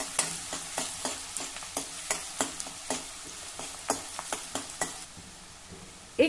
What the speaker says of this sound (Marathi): आता हा कांदा आपल्याला थोडा मऊ होईपर्यंत परतायचा आहे